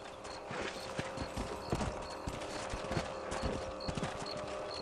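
Steady clip-clop of horse hooves trotting at an even rhythm in the video game Red Dead Redemption, close and continuous over a dense background hum, with no voices.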